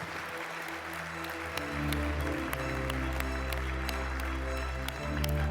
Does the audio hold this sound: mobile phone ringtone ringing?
no